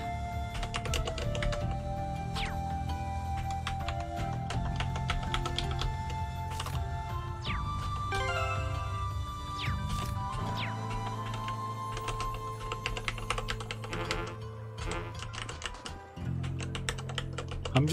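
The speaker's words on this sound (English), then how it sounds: "I'm just like tapping every single keyboard on my keyboard just to see what it does." Keys on a computer keyboard are tapped in rapid, irregular bursts throughout, with sharp clicks layered over steady music from the game Trails of Cold Steel 2.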